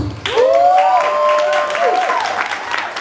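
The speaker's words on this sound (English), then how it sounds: "Round of applause." A crowd at a fashion show event applauds after an introduction, steady clapping and cheering swelling in quickly and holding loud for a few seconds with voices mixed in.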